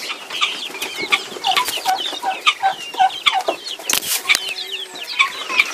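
Several hens cluck in overlapping bursts, close by and fairly loud, with sharp chirpy calls scattered throughout and no talking.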